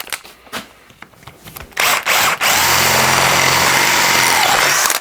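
An electric drill fitted with an old aerial hole cutter bores through soft aluminium on a vintage lamp restoration, starting with faint taps and handling, then a loud, steady whine with grinding chatter.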